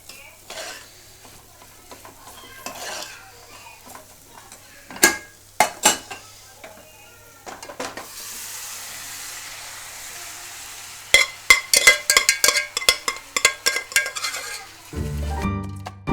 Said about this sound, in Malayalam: ഇനി നമുക്കിതിലേക്ക് സോയാബീൻ ചേർത്ത് കൊടുക്കാം.